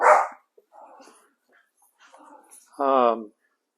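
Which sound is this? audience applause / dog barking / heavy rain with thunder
dog barking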